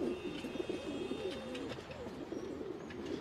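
Several pigeons coo in soft, overlapping warbling calls, close by, with faint rustling and a few light chirps in the background.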